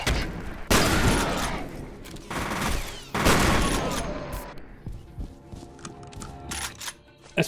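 Gunfire in the video game F.E.A.R.: Extraction Point: a few loud sharp shots with ringing tails separated by pauses, followed by quieter clicks and clatter of reloading and movement.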